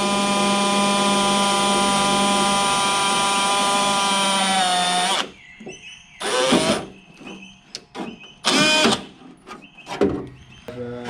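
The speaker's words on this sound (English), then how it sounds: "We're using a 1/8 cobalt drill." A power drill with a 1/8 cobalt bit whines steadily and loudly for about five seconds, then stops; clunks and short bursts of handling noise follow.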